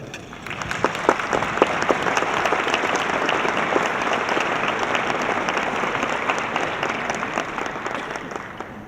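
An audience at the Sunflower House Gala breaks into sustained applause to welcome a speaker, a dense, steady wash of many hands clapping that holds for several seconds, with a few sharper claps standing out early on.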